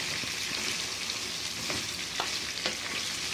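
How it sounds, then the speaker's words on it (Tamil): Brinjal is sautéed with salt in oil, giving a steady, dense frying hiss close by, with a few faint ticks and scrapes from stirring under it. There is no talking. "இப்போ இந்த அளவுக்கு இப்படியே வதக்கணும்"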